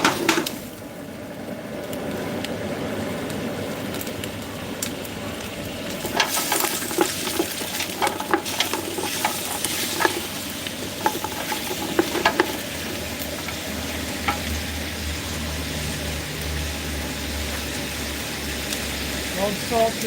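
Garlic sizzles in a hot pan on a stovetop, a steady frying hiss with stirring and utensil scrapes that turn busier midway, while a person talks over the cooking.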